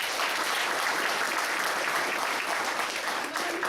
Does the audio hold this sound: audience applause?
yes